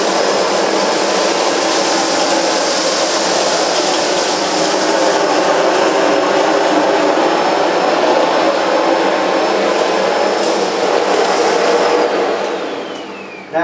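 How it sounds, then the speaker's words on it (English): A Sebo K3 cylinder vacuum with an ET1 power head, brush roll off, runs loud and steady while pushed forward and back through rolled oats and dirt, the whine holding constant before cutting off near the end. "So it's the ET1 power head first. I'm just going to move it forward and back through the middle of this dirt."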